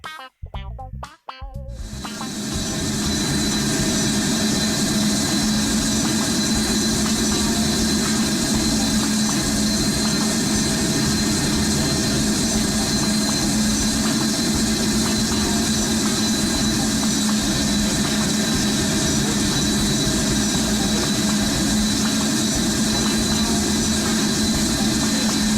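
A jet airliner lands at Punta Cana in the Project Flight video game: after a few brief knocks, a loud steady jet engine roar with broadband hiss holds unchanged to the end, with no talk.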